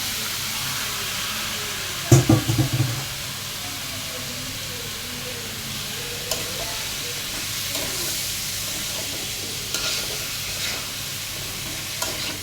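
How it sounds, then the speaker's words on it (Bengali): Beef tongue with potatoes being stirred and fried in a pan, a continuous soft sizzle and hiss with a burst of clattering spatula strokes early on and occasional scrapes after. "ভালো করে কষিয়ে নিচ্ছি"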